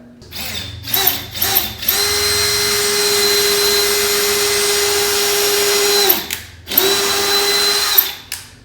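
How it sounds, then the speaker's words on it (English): A power drill pre-drilling into a wall stud whirs close and loud in short bursts, then runs steadily for several seconds, stops briefly, and starts again. "And then you just pre-drill right on the stud."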